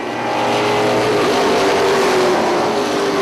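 Race cars roar loud and close as the field accelerates on the green flag at Punta Gorda Speedway, a dense continuous engine howl with rising pitch and no talk.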